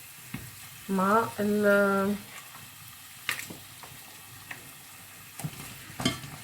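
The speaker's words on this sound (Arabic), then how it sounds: "باش نحط اللحم باش يكمل يتقلى" Meat, first simmered in water, now browning in a pan with onion: a steady low sizzle with scattered utensil clicks and scrapes, a brief voice speaking near the start, all fairly close and moderately quiet.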